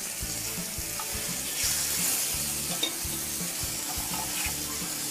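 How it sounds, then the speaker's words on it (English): Steak searing in grapeseed oil over fairly high heat makes a close, continuous sizzle and crackle, with soft scraping and a brief louder pop partway through. "Listen to that sizzle."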